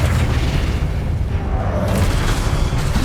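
The Flipendo spell going off in the video game Hogwarts Legacy, a loud, heavy magical boom with a rumbling, bursting body that carries on for about three seconds amid the clamor of combat.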